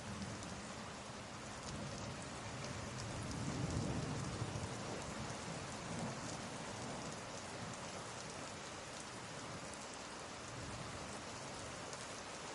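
Heavy rain falls steadily on surfaces, a dense, constant patter with a faint low rumble swelling briefly, like distant thunder, and no voices.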